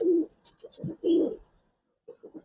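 A Giribaz pigeon cooing close up, a few soft, throaty low coos in quick rounded pulses, a short pause, then another brief burst of cooing.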